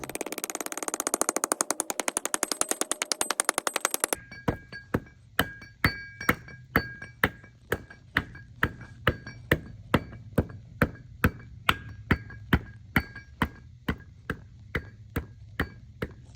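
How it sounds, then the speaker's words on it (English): Sharp, ringing metallic hammer blows repeat at a steady pace as a polyurethane bushing is hammered into place on a BMW E46, a rapid burst first, then evenly spaced strikes, close and clear with no talking. "we're gonna hammer it in and just make sure it's hammered all the way in there"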